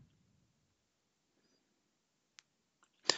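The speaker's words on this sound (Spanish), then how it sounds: "Hacemos clic en Join Now." A computer mouse clicks sharply a few times in an otherwise quiet room, the last click loudest, after a faint low murmur at the start.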